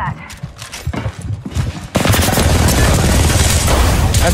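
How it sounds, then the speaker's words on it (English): Gunfire in the Apex Legends battle royale game, with sparse shots and movement early, then a dense, loud, sustained burst of rapid automatic fire filling the second half. "Getting shot at."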